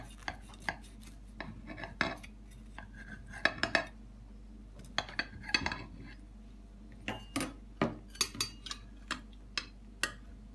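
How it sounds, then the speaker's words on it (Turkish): A utensil cuts through a spinach omelette in a pan with a series of sharp clinks, taps and scrapes against the metal, irregular and close, in an otherwise quiet kitchen. "ıspanaklı omletimizi şöyle keserek göstereyim ben size"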